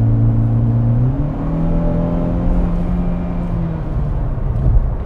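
A 2016 Hyundai Veloster SR Turbo pulls away from low speed, its engine droning steadily and rising in pitch as it accelerates, heard from inside the cabin with a constant road and engine rumble throughout.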